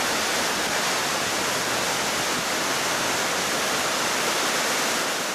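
A small creek flows steadily, its broadband wash of running water continuous and fairly loud from start to finish with no voices over it.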